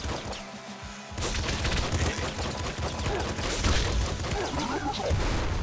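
Weapons firing in the video game Nuclear Throne: after a quieter opening second, dense, loud, continuous bursts of rapid gunfire fill the rest.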